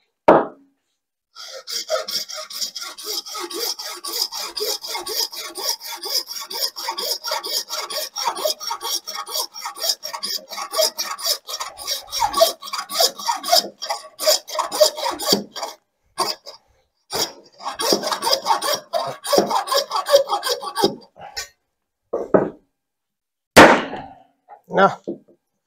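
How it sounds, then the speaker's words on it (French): A beef marrow bone being cut and broken open while making tripes à la mode, giving a long run of close, rasping scraping strokes followed by a few sharp cracks and knocks near the end. "Je viens casser l'os. Et je découpe."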